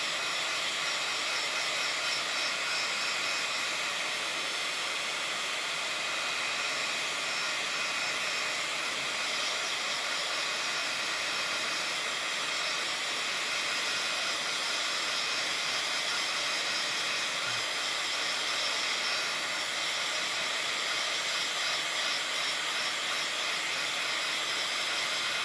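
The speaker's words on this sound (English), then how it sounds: "we better hit this with the heat gun" A heat gun blows hot air over wet gesso and paint to dry it, a steady, close, unbroken hiss and whoosh that holds at an even level for the full length with no talk.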